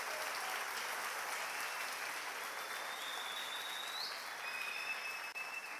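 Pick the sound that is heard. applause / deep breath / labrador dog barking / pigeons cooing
applause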